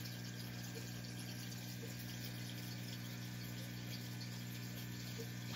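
A continuous low mechanical hum from a water pump during an aquarium water change runs steadily, with faint trickling underneath and no voices.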